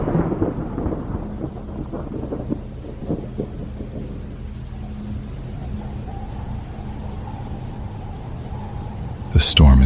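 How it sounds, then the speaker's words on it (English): A worsening thunderstorm rolls with low, drawn-out thunder rumbles over steady heavy rain around a house, the thunder strongest early and easing off, with a sharp loud burst at the very end. "The storm is getting worse."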